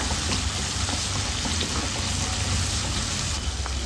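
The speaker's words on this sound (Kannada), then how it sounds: "ಒಂದು ಚಮಚದಷ್ಟು ಶುಂಠಿ ಬೆಳ್ಳುಳ್ಳಿ ಪೇಸ್ಟನ್ನು ಸೇರಿಸ್ಕೊಳ್ತಾ ಇದ್ದೀನಿ ಚಂದ ಒಂದು ನಿಮಿಷ ಫ್ರೈ ಮಾಡ್ಕೊಳ್ಳೋಣ" Ginger garlic paste fries in a pan for a brinjal green masala, giving a dense, steady sizzle that stays loud and close for the whole stretch with no pauses.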